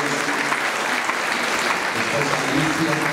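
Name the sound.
congregation applause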